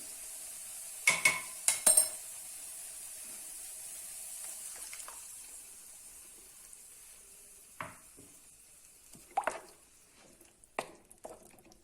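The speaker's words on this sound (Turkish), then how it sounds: "Ve soğanım çok güzel karamelize oldu ve hemen sosumu ekliyorum" Caramelized onions with black pepper are stirred in a pan as sauce goes in, giving a steady soft sizzle broken by several spoon scrapes and clacks, close and moderately quiet.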